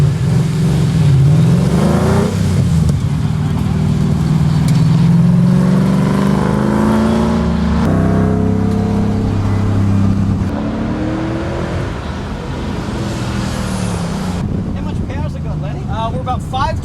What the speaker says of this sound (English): a ride-along in one of these high-performance Mustangs driven by a professional race car driver